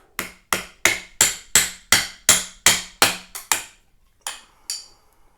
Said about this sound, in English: Stick that wrench into that space that you've made and tap it off.